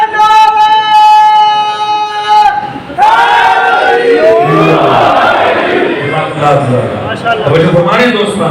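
A crowd at a Muharram religious gathering in Jaffria Colony chants slogans together. One sustained voice leads at first, then many voices roar back in unison, loud and close, for several seconds.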